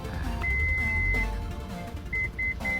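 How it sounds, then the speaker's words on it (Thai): A Toyota Fortuner's power tailgate sounds its height-reset warning as one long electronic tone followed by a few short, clear beeps over a background of soft music. "ให้กดค้างไว้ นะครับ ประมาณ 6-7 วินาทีนะครับ จะมีเสียงปี๊บเตือนเรา 2 รอบนะครับ"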